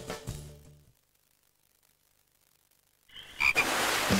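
A cartoon frog croaks loudly in a TV advert, a single close, rough croak rising out of near silence after a short musical sting fades.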